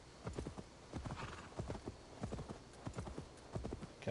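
Horse hooves clip-clop in rhythmic groups as a rider travels through a village in a PS4 video game, quiet and fairly close, with a faint voice and soft background ambience.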